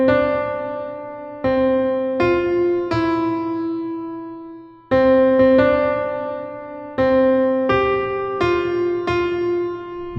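The Happy Birthday melody rings out note by note on a bright, sustained keyboard-like instrument, single clear tones played twice through, close and unaccompanied.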